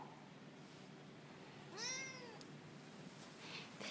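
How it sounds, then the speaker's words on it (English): A cat gives a single short meow, faint and somewhat distant, in an otherwise quiet room. "Come see Kitty Cat."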